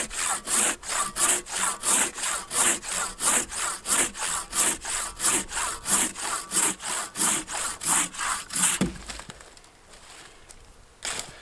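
A Silky Temagari Japanese pruning saw cuts through hard green wood with about twenty loud, close, steady rasping push-pull strokes. The strokes stop near the end and leave quiet outdoor background with faint birds.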